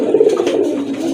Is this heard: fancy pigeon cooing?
yes